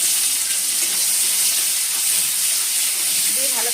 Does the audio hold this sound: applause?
no